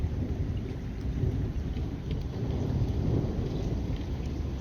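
Continuous low rumbling thunder rolls on without a break, with steady rain and light wind hiss beneath it, in a thunderstorm.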